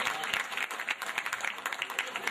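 An audience claps in a steady burst of applause that lasts a couple of seconds, dense and fairly close, with a voice speaking faintly underneath.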